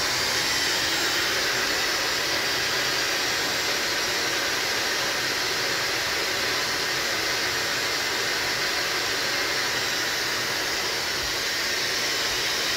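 A blow dryer runs steadily while drying, a loud, close, continuous rush of air that holds the same level throughout with no pauses.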